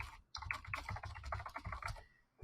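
Quick, uneven clatter of keys on a computer keyboard, close and fairly soft, running in bursts without any talk.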